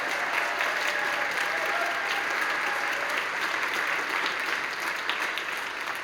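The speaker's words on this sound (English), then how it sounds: "Can we give a really huge round of applause to our parent board, parent volunteers, led by Mrs. Tanya Chisaka, our president." An audience at a high school spring concert breaks into a big, sustained round of applause, many hands clapping steadily and loudly without pause from start to finish.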